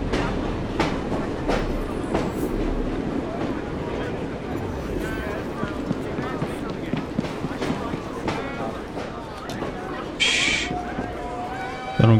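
A train running through London in the Assassin's Creed video game, a steady rumbling clatter of wheels and carriages continuing throughout, with a brief hiss near the end and a voice talking over it.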